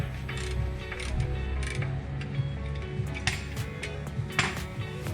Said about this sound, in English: Now we're just torquing up the pressure plate.